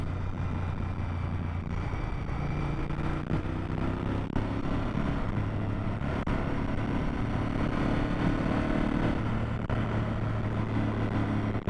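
A Honda RC51 V-twin motorcycle is ridden, its engine drone rumbling steadily beneath heavy wind buffeting on the microphone throughout.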